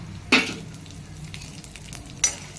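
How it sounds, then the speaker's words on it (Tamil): Mustard seeds, urad and chana dal, and broken dried chillies frying in coconut oil, a steady low sizzle with two sharp bursts of crackling, one near the start and one near the end. "வெளிச்செண்ணெயை விட்டு கடுகு, உளுத்தம்பருப்பு, கடலைப்பருப்பு, காஞ்ச மிளகா கிள்ளிந்து இது எல்லாத்தையும் போட்டு"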